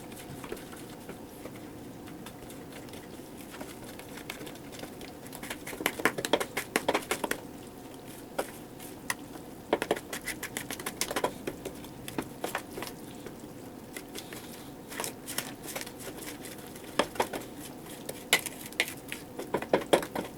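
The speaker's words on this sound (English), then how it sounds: "And then stir it." Soft, irregular scraping and clinking of a utensil working through thick cornbread cake batter in a bowl, steady and close, with no voices.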